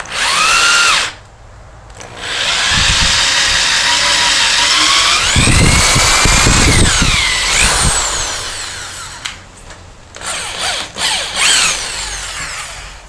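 A power drill bores a hole while building a wooden flattening jig for PVC crafting: a loud whine rising and falling in pitch, with chattering bursts as the bit cuts through, then stopping and restarting in short pulses near the end.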